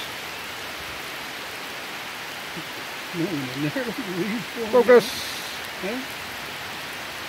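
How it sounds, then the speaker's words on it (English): Rain falls outdoors as a steady, even hiss of broadband noise, while a person speaks briefly over it near the middle. "It's raining."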